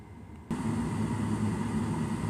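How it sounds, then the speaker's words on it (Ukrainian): A Webasto parking heater on a 2023 DAF XG truck starts abruptly with a steady whooshing hum that continues evenly and close by, with no talking. "І запускаємо Webasto."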